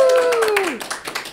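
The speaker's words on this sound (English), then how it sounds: "Let's give her a round of applause." A school audience claps for a sixth-grade student during a morning spotlight. Scattered, fairly close claps sound under a rising-and-falling voice and a little chatter, and thin out after about a second.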